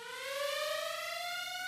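An alarm siren sound effect rises in a steady upward wail, a single clear electronic tone with no voices.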